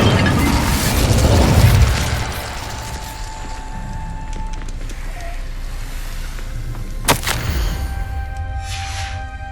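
An Incendio fire spell in Hogwarts Legacy gameplay goes off in a booming fiery burst that rumbles and fades, followed by a sharp crack and quieter ambient tones.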